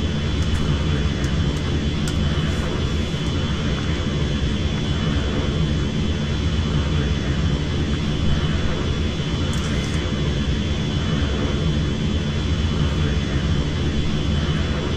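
Steady, loud, unbroken drone of an L39 Albatros jet engine in the flight simulator FSX, with a constant high whine running under it for the whole stretch and only faint clicks on top.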